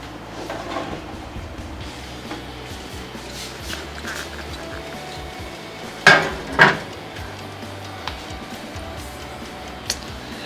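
A homemade cheesy chicken pizza goes into an oven preheated to 180 degrees, with quiet kitchen handling and then two sharp metallic pan clanks in quick succession midway, followed by a lighter clink.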